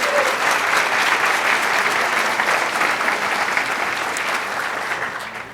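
Audience applause at a conference keynote, a dense, steady wash of many hands clapping that holds for several seconds and fades slightly at the end.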